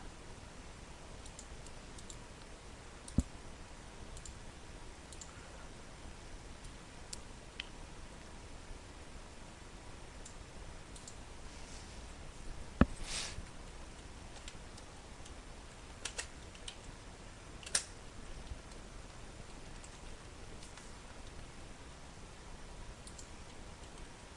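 Someone typing a note on a computer keyboard, faint scattered key taps and occasional sharper clicks over a quiet hiss, no speech.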